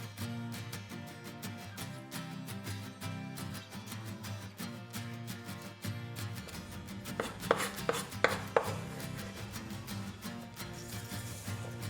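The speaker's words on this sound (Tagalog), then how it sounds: "Umpisa natin sa isang medium na onion. So kailangan lang natin ito na i-slice ng maninipis." A knife slices a medium onion thinly on a cutting board, a run of quiet, rapid chops under a constant hum, with a few sharper cuts near the end.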